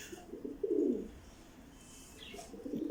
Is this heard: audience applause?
no